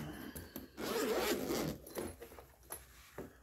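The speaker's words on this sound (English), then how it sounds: "It's kind of a hard, soft-sided case. Unzip it." A zipper is pulled open around a soft-sided case for a Work Sharp Precision Adjust knife sharpener, producing a fairly quiet, close ripping zip followed by light handling clicks and rustles.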